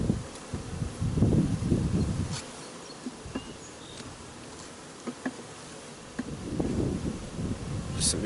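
Honey bees buzz close by during a hive inspection as frames are checked, a steady hum that swells in two louder bursts, with faint rustling between them.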